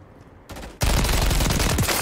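Sustained automatic gunfire in the video game Modern Warfare 3, close and loud, a dense rapid stream of shots starting abruptly after a short quieter lead-in.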